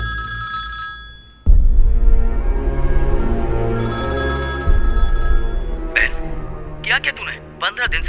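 A telephone rings with a steady tonal buzz under a loud, dense music bed in a Hindi-dubbed film, followed by brief bursts of speech near the end.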